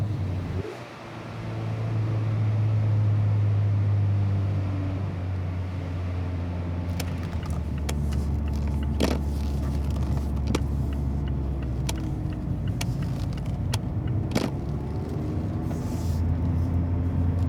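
A Mazda MX-5 ND drives off the Autobahn, a steady interior engine and road drone with a gear change early on and some faint clicks, no voices.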